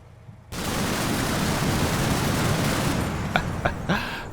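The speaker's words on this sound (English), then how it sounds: "I think that might be my Tunguska getting involved there." Twin 23mm cannons on a Tunguska vehicle fire in the Combat Mission: Cold War battle game as a sudden, loud, sustained roaring burst, followed by a few sharp separate cracks as it tails off.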